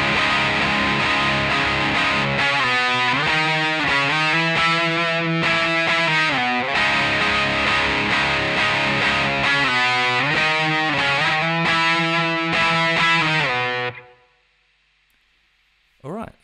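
A distorted electric guitar plays a lead line of sustained bent notes and phrases, loud and continuous, ending abruptly into near silence.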